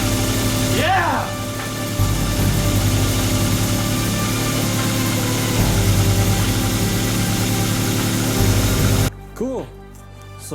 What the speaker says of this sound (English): So she fires up and idles.